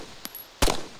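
A gunshot in the survival shooter DayZ rings out as one loud, sharp blast with a brief tail, preceded by a faint, high click.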